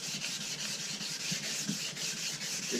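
Steady, close hand sanding with 600-grit paper on a cloudy plastic headlight lens of a Ram SRT-10, a continuous dry rasping in quick back-and-forth strokes.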